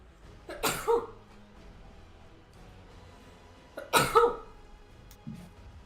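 Two sharp, loud sneeze-like bursts several seconds apart, each a sudden broadband blast, heard close by in a quiet room during a tabletop role-playing game session, with a faint trailing throat sound at the end.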